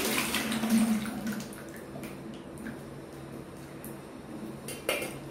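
Hot homemade fabric starch for cotton being strained into a bucket, a steady wash of pouring, splashing liquid close by with faint clinks of a container, no talk.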